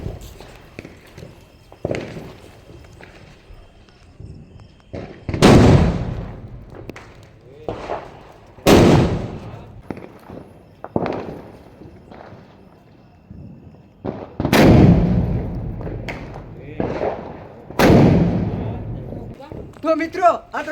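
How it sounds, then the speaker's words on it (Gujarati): Large putli bomb firecrackers going off during Diwali, a series of sharp, loud booms spaced a few seconds apart, some coming in close pairs, with quieter rustling and footsteps between blasts. "તો મિત્રો હવે જઈ રહ્યા છીએ મોટો જે ધડાકો છે પૂતળી બોમ્બ જગાવવા"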